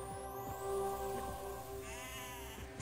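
Goats bleating in the horror game Sker Ritual, several wavering bleats over a steady ambient game drone, fairly quiet and with no talk.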